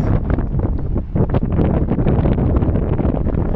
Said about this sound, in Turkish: Uf rüzgar çok fazla